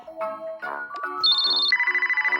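A phone ringtone plays a bright electronic melody of stepped tones, ending in a rapid warbling trill, loud and alone with no voices.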